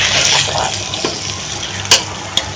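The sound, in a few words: ghee being added to gur suji halwa in a pan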